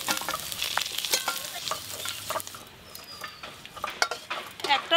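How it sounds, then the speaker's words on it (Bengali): Small river fish fry in hot oil in a pan, a continuous crackling sizzle broken by stirring scrapes and clicks, close and fairly loud with no talking. "ছোট মাছগুলো হালকা করে ভেজেই তুলে নেব।"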